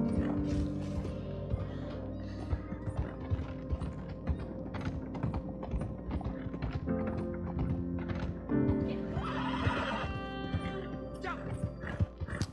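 Horse-drawn wagons and horses in Red Dead Redemption 2, with rapid clip-clop hoofbeats, creaking and rattling wagon mechanisms and harness jingles throughout, dense and close, with faint talk.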